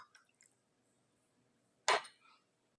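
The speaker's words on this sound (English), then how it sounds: "With the cover inside out, dip and swish it." Wool diaper cover, turned inside out, dipped and swished in a warm lanolin water bath, giving one short watery splash and slosh near the end, with faint drips before it and no talking.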